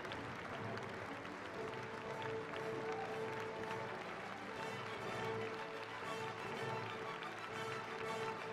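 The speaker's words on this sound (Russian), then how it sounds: "Ваши аплодисменты." A concert hall audience applauds a third-prize winner at the closing ceremony of a violin competition, sustained even clapping filling the room at moderate distance with no talking over it.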